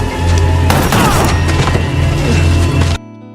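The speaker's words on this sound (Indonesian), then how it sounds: "Dia pun mendapatkan tembakan dari Riz" Gunfire erupts in an action film scene, dense overlapping shots and booming impacts layered over a loud soundtrack rumble for about three seconds before stopping abruptly.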